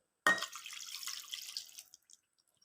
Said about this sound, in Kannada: ವಾಶ್ ಮಾಡ್ಕೊಂಡು ಇಟ್ಕೊಂಡಿರುವಂತಹ ಮಟನಿಗೆ ಅರ್ಧ ಲೋಟ ನೀರು ಹಾಕ್ಕೊಳ್ಳಿ.